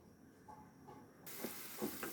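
Food is shallow-fried in a small amount of hot oil, a faint hiss that suddenly rises into a steady sizzle partway through, with a few soft crackles and no speech.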